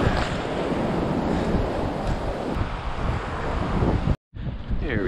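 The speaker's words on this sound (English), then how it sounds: "Start by fishing the ocean surf." Ocean surf on a Long Island beach in mid-June is a continuous loud roar of breaking waves, heavily mixed with wind buffeting the microphone, with a brief dropout near the end.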